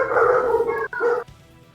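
A dog gives a loud, close whining bark that is drawn out and broken by a brief pause, then fades into quiet.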